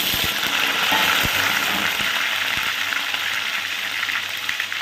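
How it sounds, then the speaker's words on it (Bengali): Diced potatoes frying in hot mustard oil give a steady, close, loud sizzle with crackling, scattered faint clicks and knocks of a utensil, and no voices. "এই ডুমো করে কেটে রাখা যে আলুগুলো খুব ভালো করে ভেজে নেব।"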